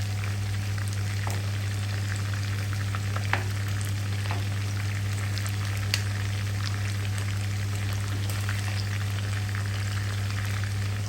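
Chicken pieces fry in oil in a pan and are turned, making a continuous sizzle with a few faint clicks of the turning over a steady low hum.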